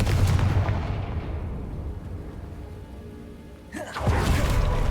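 A Confringo fire-spell blast in the video game Hogwarts Legacy: a heavy booming explosion that decays into a rumbling tail, then a sharp second burst near the end.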